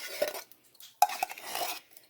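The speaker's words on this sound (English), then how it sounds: "And then just stir it all in together" Instant rice and cream of mushroom soup are stirred together in a pot, a few short close clinks and scrapes of a spoon against metal with brief pauses between them.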